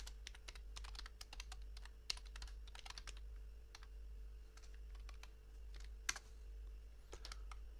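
Rapid, uneven keystrokes on a computer keyboard, close and fairly quiet, with a steady low hum underneath and no voices.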